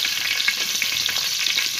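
Green cardamom sizzles in hot oil in a pan, giving a loud, steady frying hiss with small bubbling crackles throughout, with no speech.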